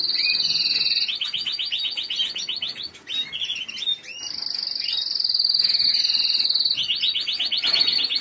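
A yellow Timbrado canary sings close by in bright, continuous trilled and chirping phrases, with rolling rapid runs that pause briefly and resume, no voices present.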